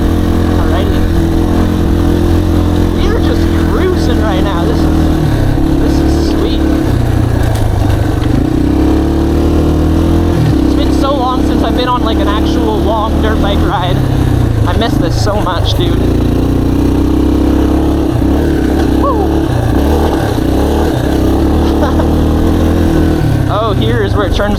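Dirt bike engine droning steadily and loud throughout a ride on a wooded trail, with shifting pitch as the rider cruises, close-up and continuous, with a voice talking over it.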